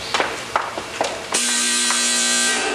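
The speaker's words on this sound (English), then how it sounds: "That's Mom's new dryer. Doesn't it sound awful?" A few soft taps give way to a loud, harsh buzzing hum from a noisy new household clothes dryer, steady and close once it starts, with no talk.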